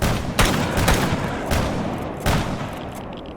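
Mossberg shotgun blasts in the game STALKER: four heavy booming shots spaced irregularly over a few seconds, loud and close, each with a short rumbling tail, no talking.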